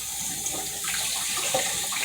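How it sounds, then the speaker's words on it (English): Water runs from a kitchen faucet into a bowl of rice being rinsed for pepper steak, a steady close splash that swells slightly partway through, with no talk. "so I rinse it off 3 times. And usually, after the 3rd time I rinse it off, and I refill it with water, the water is clear."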